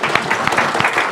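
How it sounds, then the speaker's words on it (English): Audience applause for conference panelists at a clinical research society meeting: a dense, steady wash of many hands clapping at once, loud and close throughout. "A round of applause for our panelists."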